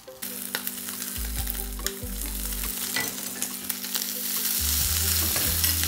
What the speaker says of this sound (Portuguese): Colocar a linguiçinha e deixar ela ficar bem fritinha para poder soltar toda a gordura que tem dentro dela